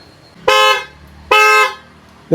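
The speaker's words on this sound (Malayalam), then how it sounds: "ഇതുപോലെയാണ് നമ്മുടെ ഹോണിൻ്റെ ഒരു വർക്കിംഗ് വരുന്നത്" Two short, loud blasts of a bright, brassy aftermarket Hella car horn, close by, with a brief pause between them.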